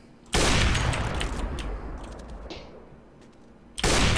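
Gunfire in CS:GO, with a loud burst of shots at the start and another at the end and quieter game ambience between them.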